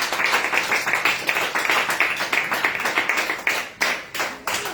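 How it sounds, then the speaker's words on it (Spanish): A church congregation gives a strong round of applause during a worship service, dense rhythmic clapping that stays loud and close with a few pulsing accents throughout. "Dele esa fuerte ofrenda de aplausos al Rey de Reyes"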